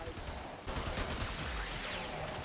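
Sustained rapid gunfire from a Braton Prime rifle in the mobile video game Warframe, with dense continuous bursts that swell partway through and carry on without a break.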